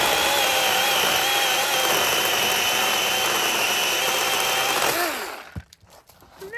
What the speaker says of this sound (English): A little mini chainsaw.